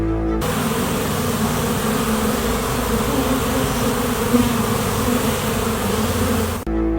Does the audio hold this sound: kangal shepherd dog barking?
no